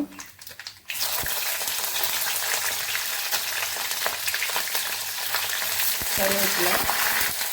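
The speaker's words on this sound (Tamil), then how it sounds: "இப்போ பிரியாணி இலை போட்டுக்கலாம் பச்சை மிளகா" Bay leaf and green chili dropped into hot oil for a tempering, a quiet moment, then a sudden loud burst of frying that settles into a steady, intense sizzle with occasional stirring.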